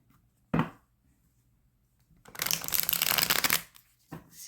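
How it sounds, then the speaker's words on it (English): A deck of Awaken Tarot cards being shuffled close up: a brief riffle, then a longer dense flurry of flapping, rustling cards, and a short final riffle, all fairly quiet with no talking. "They're a little bit easier to shuffle as well."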